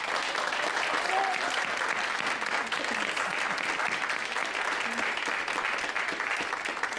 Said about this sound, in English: Let's have another big round of applause for our wonderful speakers.